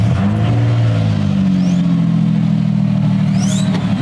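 Ford Ranger off-road truck with a custom Flowmaster Super 10 straight-back exhaust revs steadily up close, a loud continuous engine drone with rising and falling tone and no talking.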